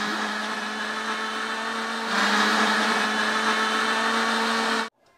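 A blender whirs steadily through lemon juice mixed with half a cup of water, the motor note rising slightly in pitch midway as it runs, then stopping abruptly near the end.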